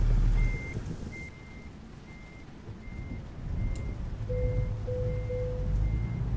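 Steady high-pitched reversing beeps from a Peterbilt 352 truck in American Truck Simulator repeat at an even pace over a low engine rumble, with a lower tone sounding briefly near the end.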